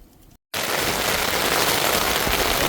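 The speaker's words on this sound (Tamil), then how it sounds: "சின்ன பாருங்க மழையும் காற்றும் அப்படி அடிக்கன்னு பார்த்தீங்களா" After a quiet moment and a short gap, heavy rain and gusting wind roar in loudly on a beach along the Mullaitivu road, a dense continuous wash of noise.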